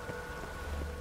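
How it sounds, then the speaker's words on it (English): Steady rainfall in the video game Witcher 3, a soft, even hiss of falling rain with no voices. "Looks like rain."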